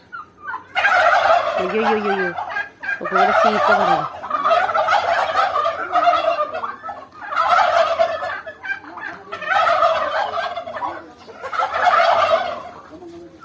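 A flock of turkeys on a farm gobbles loudly and close by in about six repeated rattling bursts separated by short pauses, with a person speaking briefly between them.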